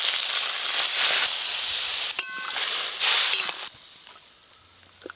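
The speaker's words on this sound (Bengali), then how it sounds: "কচুগুলো ভালো করে ভাজা হয়ে গেছে। এবার জল দিয়ে দেব, জল" Water hits frying taro in a pan, bursting into loud hissing sizzles with a couple of clinks, then fading to a quieter simmer.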